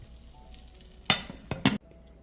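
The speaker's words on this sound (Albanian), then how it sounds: "Byrekun në tigan dhe vazhdojmë me pjekim edhe 7 minuta tjera." Burek frying in a pan gives a soft, quiet sizzle broken by a few short, sharper crackling bursts close by, with no talk.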